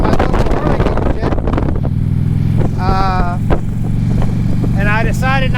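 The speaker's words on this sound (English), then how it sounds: "wow, this wind is killer" Heavy wind buffets the microphone while riding a brand-new Harley police motorcycle, a loud, steady low roar throughout with someone talking over it.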